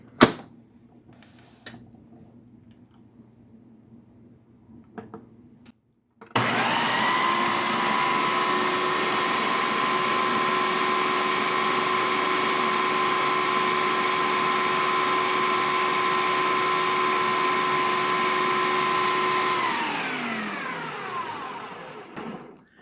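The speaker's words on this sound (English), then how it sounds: "Then we're just going to blend this together in the food processor." A food processor blends flour and cornmeal, a loud steady whirring motor drone with a bright whine that runs continuously for about fourteen seconds before winding down, preceded by a few quieter clicks and handling sounds.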